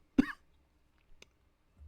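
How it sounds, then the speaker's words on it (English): A single sharp cough up close, followed by a brief faint throat sound, then near silence. "Still dealing with this cough."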